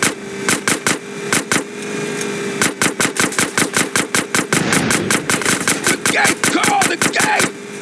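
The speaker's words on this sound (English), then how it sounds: "Shoot out the gate." Rapid bursts of gunfire in GTA San Andreas as a sewer gate is shot out, loud and close, with sharp repeated shots in uneven clusters over steady background rumble.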